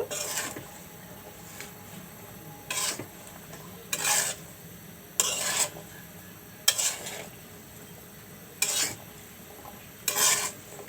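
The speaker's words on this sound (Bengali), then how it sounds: "আমি এখন এইভাবে একটু লাড়া দেব" Vegetable curry being stirred in a pot on a stove, a spoon scraping and clinking against the pot in about six separate bursts over a low, steady simmering hiss, close by with no talk.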